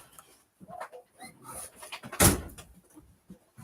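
Dogs next door give short muffled barks and whimpers through the wall, faint and scattered, with one louder burst in the middle of a quiet room.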